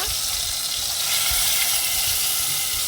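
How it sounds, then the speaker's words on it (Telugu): Masala-coated chicken pieces for a green peas chicken dish frying in a little oil, a loud bright hissing sizzle that stays constant from start to finish, with a few low thumps beneath. "కొంచెం కొంచెం తీసుకొని ఆయిల్లో వేసి మనం ఫ్రై చేసుకోవాలి"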